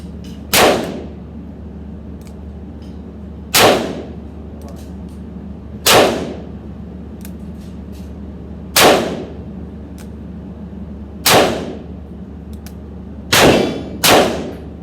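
Sharp shots from a Smith and Wesson Air Lite .22 caliber 8-shot air pistol fired single action crack one at a time at irregular intervals, six or seven loud pops, the last two close together, with quiet between.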